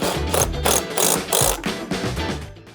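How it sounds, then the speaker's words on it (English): A ratchet wrench tightening the bolt on a pool filter clamp, a series of quick, close, rhythmic clicking bursts in several strokes, loud and alone without talk. "We're gonna put the bolt back on and tighten it."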